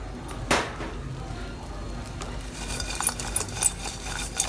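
Onion, garlic and Cheongyang chili stir-frying in a pan, a soft sizzle under scattered utensil clinks and scrapes, with one sharp knock near the start.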